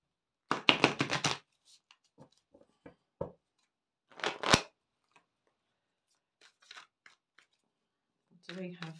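Quick bursts of riffling tarot card shuffles, a flurry at the start and another a few seconds later, with soft handling noises between and faint movement near the end.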